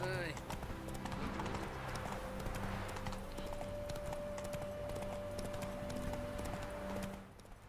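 Horse hooves clip-clop steadily while riding through a sunflower field in The Witcher 3: Hearts of Stone, a continuous trotting rhythm under game music and someone talking throughout.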